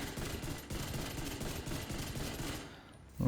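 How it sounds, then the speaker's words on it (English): Rapid automatic gunfire from a weapon in the Division 2 video game, fired without recoil control, sounds as a dense, continuous burst of shots that fades out near the end. "That's just me shooting without controlling it at all."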